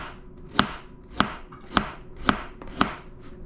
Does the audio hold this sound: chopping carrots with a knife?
yes